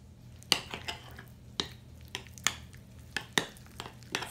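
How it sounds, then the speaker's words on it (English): Fresh Parmesan filling for zucchini lasagna mixed in a bowl: quiet, irregular clicks and taps of a utensil against the bowl with soft squishing between them. "So I'm just going to mix this together"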